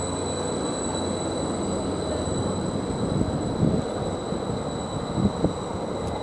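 A diesel passenger train pulls out of Ely station bound for Ipswich, heard as a steady low rumble with a faint high whine and a few soft clanks. The sound holds at a fairly even level throughout and carries no speech.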